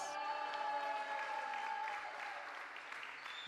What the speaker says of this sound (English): Go on with your applause